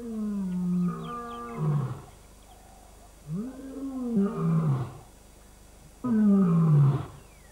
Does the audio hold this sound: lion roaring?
yes